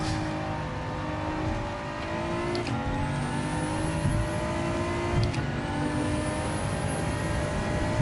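Race car engine in Gran Turismo 7 revving and accelerating steadily, a loud continuous tone rising in pitch through the gears, with brief shift breaks around the third and fifth seconds.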